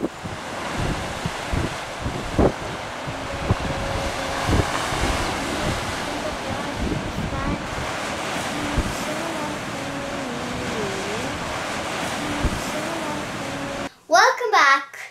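Strong wind buffets the microphone over a steady roar of surf and crashing waves, with a voice briefly audible beneath the gusts.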